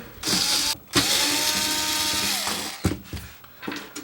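Screws are backed out of the cabinet of an Akai HX-A1 cassette deck, making close squeaky ratcheting turns and clicks with brief pauses between them.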